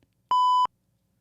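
A single sharp censor beep set off by pressing a blue button, one steady tone lasting about a third of a second, loud and clean against near silence.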